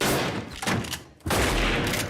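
Gunfire from a Boardwalk Empire TV episode, a shotgun fight in a building: dense loud blasts fill the clip, with a brief lull before another heavy burst, and no talking over it.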